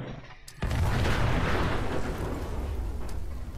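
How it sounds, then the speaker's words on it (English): A grenade blast in a video game sets off a sudden loud boom that rolls on as a long, noisy rumble without fading. "Now you can throw grenades."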